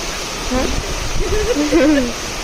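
Floodwater rushes past in a steady, loud roar after heavy monsoon rain, with people talking over the constant flow.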